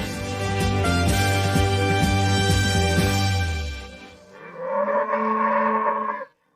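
Cattle in Texas bellow and moo loudly as cowboys on horseback separate the cows from their calves. Two long, close calls sound one after another, each one sustained and strongly voiced.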